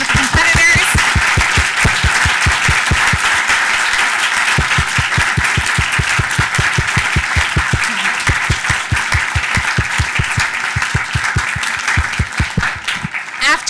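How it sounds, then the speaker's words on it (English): A moot court finals audience applauds the competitors with loud, sustained clapping that holds steady for many seconds, with a faint steady rhythmic thumping running beneath it. "Please join me in a round of applause for our wonderful competitors."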